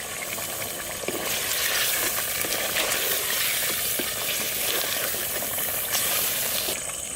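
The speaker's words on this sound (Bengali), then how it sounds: "সুন্দরভাবে মাংস কষানো হয়ে গেছে, ভেজে নেওয়া আলুটা দিয়ে দেবো।" Chicken with fried potatoes sizzles and crackles continuously in a clay pot while being stirred. The frying hiss is dense and steady and close by, with no voices.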